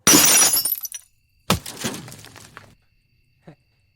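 A glass shuriken shatters against glass with a loud, bright crash and a spray of tinkling shards, then a second breaking impact with fragments scattering, and one small clink after a pause.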